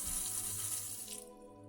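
Water runs steadily from a sink faucet fitted with a kick-operated touchless valve, a close, even splashing stream that cuts off near the end.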